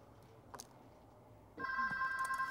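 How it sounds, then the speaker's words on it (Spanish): A telephone starts ringing partway through in a Spanish-dubbed 1996 crime thriller scene: a bright electronic ring rises abruptly over quiet room tone and holds steadily to the end, with a faint sound just before it. "Detective Hardy, teléfono para usted."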